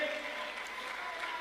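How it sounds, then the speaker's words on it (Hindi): An audience at a Safeshop direct-selling leadership training program breaks into brief, fairly faint applause, with a voice speaking over the clapping. "एक बार ताली बजाओ, जोरदार ताली बजाओ सर"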